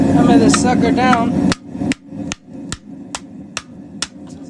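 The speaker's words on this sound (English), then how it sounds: "Hammer this sucker down." Hammer blows flattening a sheet of aluminum for a homemade kiln, seven or eight sharp metallic whacks at irregular intervals, close and loud, following a burst of loud sound at the start.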